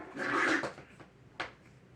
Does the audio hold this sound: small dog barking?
yes